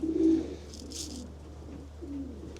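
Racing pigeons cooing close by, a low throaty coo at the start and another softer one near the end, with a brief flutter or rustle in between.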